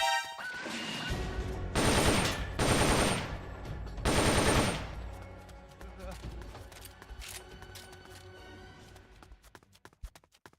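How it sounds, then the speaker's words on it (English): Bursts of gunfire inside a guarded compound in the PSP game Metal Gear Solid Peace Walker, loud rapid volleys in three clusters over the first half, then fading into quieter ambient game sound. "You hear that? Gunshots! We're under attack!"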